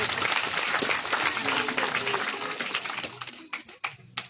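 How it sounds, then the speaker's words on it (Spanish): A church congregation breaks into loud applause at a Quechua-language sermon, dense clapping that thins out into scattered claps and voices over the final second. "Fuerte aplauso."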